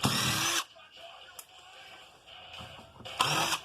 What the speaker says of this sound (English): I'm going to just start taking some screws out